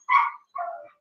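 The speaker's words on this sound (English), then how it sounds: "I hate those dogs." Two quick dog barks in close succession, sharp and fairly near, alone against silence.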